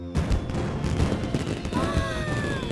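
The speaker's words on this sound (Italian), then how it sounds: "speriamo che questi fuochi d'artificio rimangano dove devono stare" Fireworks explode in a Fireman Sam cartoon, a dense loud volley of cracks and booms with whistling streaks rising over the bursts.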